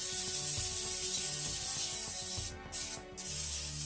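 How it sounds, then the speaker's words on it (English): A continuous close hiss of aerosol cooking oil sprayed onto a whole chicken, steady and loud, briefly breaking off twice near the end before resuming. "And we're gonna spray them again."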